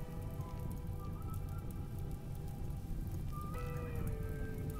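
Rain patters steadily in the video game Rimworld, a constant soft hiss of drops on a surface under quiet tonal background music with sustained notes that shift partway through.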